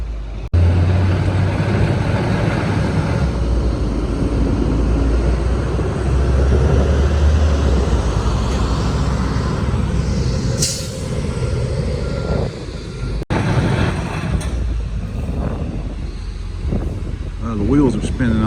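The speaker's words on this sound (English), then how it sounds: "They're having a hard time pulling these cars." A Trackmobile railcar mover at a rail yard strains to pull loaded grain cars with its wheels spinning, giving a steady loud engine roar with intermittent beeping, close by and continuous throughout.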